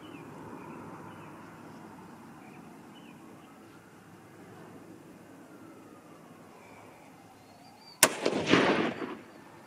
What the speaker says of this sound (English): let's go ahead and get this last shot taken care of